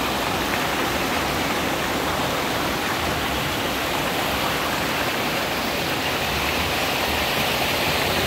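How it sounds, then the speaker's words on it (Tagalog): Arnel Falls, a waterfall in Taiwan, roars as a steady, loud broadband rush of falling water, constant and close throughout with no voices over it. "Ito yung Arnel Falls"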